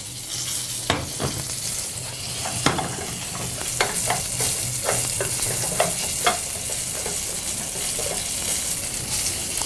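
Food fries in a little oil in a pan with a steady close sizzle, broken by scattered sharp pops and scraping stirs.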